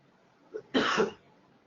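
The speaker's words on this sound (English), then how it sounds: "That was me coughing." A single short cough follows a faint breath, close and fairly quiet, then silence.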